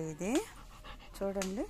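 A dog pants in short, quick breaths heard faintly between spoken words, with a person talking close by over most of the moment.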